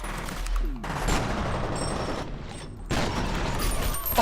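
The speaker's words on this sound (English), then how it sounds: "his submachine gun took me out" Submachine gun fire rattles in sustained rapid bursts in the horror shooter F.E.A.R., broken by a brief pause, loud and close with mechanical clatter.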